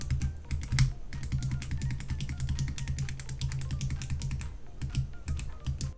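A Samsung Galaxy Note 8 S Pen is clicked over and over like a retractable ballpoint pen, giving a fast, steady stream of crisp, close clicks with no talking.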